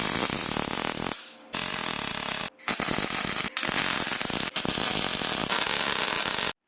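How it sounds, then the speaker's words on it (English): Loud, continuous crackling buzz of metal being welded on a UAZ 452 van conversion, running in long bursts broken by brief pauses, close up with no talking. "Now to weld it up fully."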